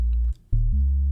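Deep bass enters a looped electronic beat, a sustained low tone that drops out briefly then returns louder and steady, with no voices.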